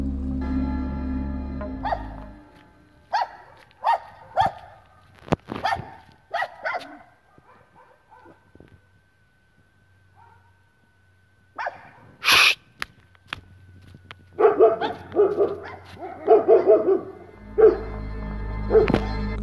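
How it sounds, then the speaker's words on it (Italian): Dogs bark in scattered bursts, some sharp and close, with quieter gaps and a brief sneeze-like burst midway, continuing in a cluster of barks toward the end. "Subito dopo che i cani avevano iniziato ad abbaiare"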